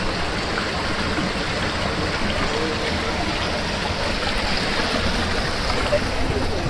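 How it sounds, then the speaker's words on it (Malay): Steady rushing water fills the whole stretch, a broad continuous roar of the Mentekoh river flowing nearby on a mountain hike, with no clear voices. "Air mengalir."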